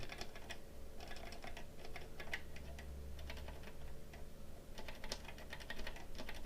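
Keys clatter on an Intel iPDS-100 computer keyboard under repair testing, a steady run of quick, light clicks with a few louder taps over a low mains hum, no talking.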